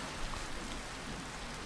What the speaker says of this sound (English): It's raining in Ishgard.